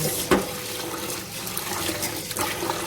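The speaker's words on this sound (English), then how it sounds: "while washing the rice, you don't have to start rushing to get the rice off the water" Basmati rice is washed under running water in a fine sieve, a close, continuous splashing and rushing flow with a couple of sharper sloshes, and no talking.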